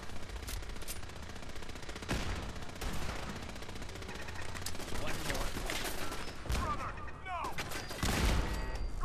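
Rapid gunfire in the Fallout 4 video game during a battle at Bunker Hill, with dense bursts of shots and explosions throughout, loud and close, with voices underneath.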